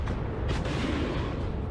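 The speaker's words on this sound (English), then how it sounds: "The Bradley launches the second missile." A Bradley fighting vehicle launches a TOW missile in combat, a loud, sustained roaring blast heard at a distance, rumbling throughout the short burst.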